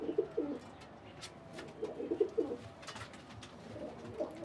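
A pet pigeon coos in several low, throaty bursts, one cluster early and another around the middle, close by and fairly soft, with no talking over it.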